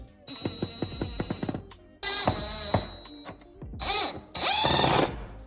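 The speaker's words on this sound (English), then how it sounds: "I'm just gonna go ahead and drill this into place in this little hole right at the top of the window" A power drill whirs in short bursts, several quick pulses, then longer sustained runs, drilling a blind bracket into the top of a window frame, close and fairly loud with no talking.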